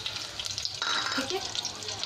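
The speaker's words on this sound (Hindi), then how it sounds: "तो अब मैं इसमें ये कड़ी पत्ते डाल देंगे" Curry leaves dropped into hot oil with fenugreek seeds, frying for a surmai fish curry, giving a close, steady sizzle that brightens partway through.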